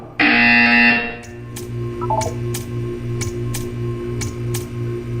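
A loud, harsh electronic buzzer from the video game Portal 2 blares for about a second, then gives way to a quiet, steady run of evenly spaced clicks and ticks.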